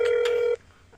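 A single steady phone tone sounds in the game That's Not My Neighbor as a number is dialed, holding for about half a second with a short blip at the start, then cutting off into near silence.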